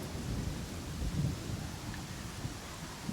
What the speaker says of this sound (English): that lightning is awful close